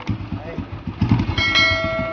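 A Royal Enfield Machismo 350 motorcycle idles nearby with a low, thumping engine beat, joined by a brief higher-pitched tone near the end.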